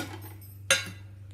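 Ice cubes clink into a mixer jar holding milk and sugar for a sapota juice, one brief sharp clatter over a steady low appliance hum.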